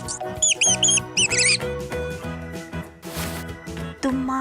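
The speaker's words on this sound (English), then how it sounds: "This is a mouse." A mouse lets out quick, high squeaks in two rapid clusters early on, over a gentle musical backing.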